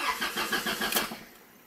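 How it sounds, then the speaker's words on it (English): A 1994-1997 Honda Accord EX with a newly fitted starter motor cranks in a quick, even rhythm of whirring pulses for over a second, then the effort trails off into quieter running; close and fairly loud, no talking. "Look, the starter works."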